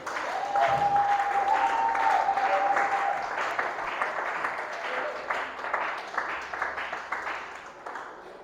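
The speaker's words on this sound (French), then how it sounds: "On acclame pour le Seigneur." A church congregation at a Sunday service applauds steadily for several seconds, with a sustained tone and voices mixed into the clapping.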